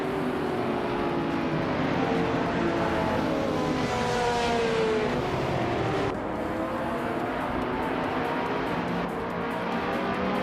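A 2008 BMW D4M Coupe GT3 racing around the Queensland National Track in a racing video game, its engine droning and shifting pitch steadily and loudly with a continuous whine.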